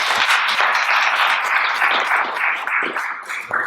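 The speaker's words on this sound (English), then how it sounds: "Let's give her a nice round of applause." Applause for a school board vice president at a public board meeting: steady, fairly close clapping from a seated audience, continuing throughout and tapering slightly near the end.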